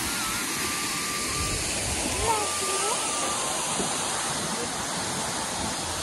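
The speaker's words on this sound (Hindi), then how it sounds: "तो ये हूँ वाटरफॉल बड़घागरा" Badaghagara waterfall in Keonjhar, Odisha, gives a steady, full roar of falling water, unbroken throughout, with a voice faintly audible over it.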